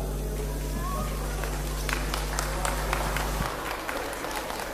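Applause from a crowd for a youth football team at a tournament, scattered claps rising over a steady low hum and faint crowd noise, moderately distant.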